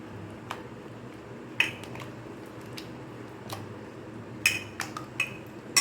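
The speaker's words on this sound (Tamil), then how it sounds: "நல்லா கிளறி விட்டுக்கோங்க, கோட் ஆகிற மாதிரி." Chicken is stirred and coated in marinade, giving soft wet squishes and scattered sharp clicks of a utensil against the bowl, close by and fairly quiet.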